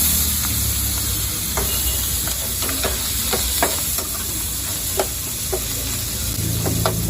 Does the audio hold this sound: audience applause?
no